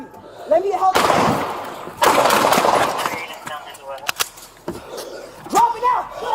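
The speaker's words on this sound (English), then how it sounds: "Shots fired." Gunfire erupts close by at the end of a police pursuit in which an armed suspect shoots at LAPD officers, with dense, loud bursts of rapid shots and a few sharp isolated cracks mixed with shouting voices.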